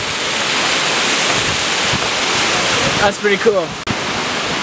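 A waterfall roars as a dense, steady wash of broadband noise, close and loud throughout, with someone briefly speaking over it near the end.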